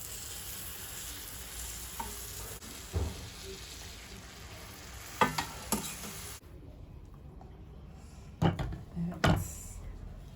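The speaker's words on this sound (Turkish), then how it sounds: "Evet şimdi bunun şerbetini dökelim." Cold syrup poured onto hot baklava fresh from the oven, giving a faint fizzing sizzle with a few soft clinks and taps, some sharper bursts near the end in a quiet kitchen.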